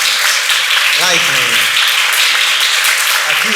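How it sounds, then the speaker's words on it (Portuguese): An audience at a traditional Amazonian music gathering in Acre claps for Zé Pinheiro, a dense, continuous wash of applause with a voice talking over it. "Uma salva de palmas para ele, pessoal."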